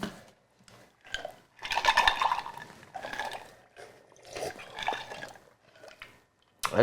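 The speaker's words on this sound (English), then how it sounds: "And get it a little quick pour" Lemonade poured into a cup, a few bursts of liquid splashing and trickling up close with soft drips and pauses between them.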